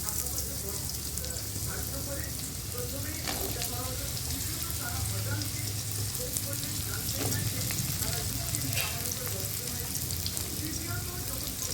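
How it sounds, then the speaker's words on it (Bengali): Potato pieces lightly frying in oil for a Bengali jhinge posto dish, a continuous close sizzle with faint stirring and clinks, steady and moderately loud throughout. "ঝিঙে পোস্তর আলুটা আমি আগে ভেজে তুলে রাখবো হালকা ভেজে তুলে রাখবো"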